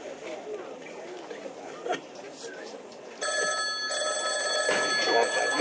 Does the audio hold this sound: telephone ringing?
yes